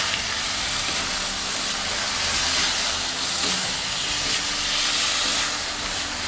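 Eggplant and tofu egg stir-fried together in a pan over high heat make a loud, continuous hissing sizzle that holds steady throughout without any talking.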